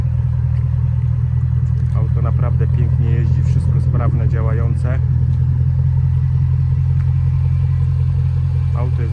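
Supercharged 5.0 V8 of a 2013 Range Rover Autobiography with active exhaust, tuned to 575 hp, holds a steady deep idle rumble throughout, loud and close, with someone talking over it for much of the clip.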